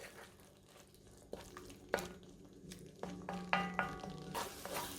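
A lamb curry base of spices cooks in a pan with a close, steady frying sizzle, while a spoon scrapes and stirs in repeated bursts and clacks against the pan; no one speaks.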